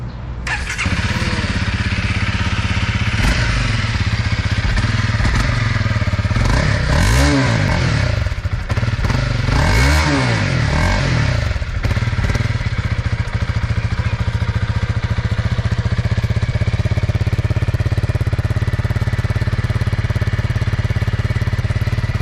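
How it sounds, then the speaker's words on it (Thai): A Honda CRF300 Rally motorcycle engine idles loudly nearby, revved several times in quick bursts before settling back to a steady rumble. "ขอฟังเสียงเครื่องยนต์หน่อยได้ได้ นะคะ"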